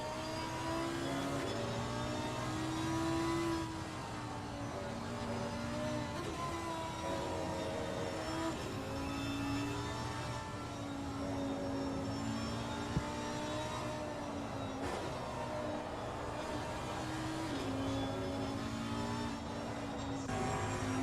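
Race cars lapping the Suzuka circuit in a racing video game, a steady, loud blend of engine drones rising and falling as cars rev and shift, running continuously with no talk.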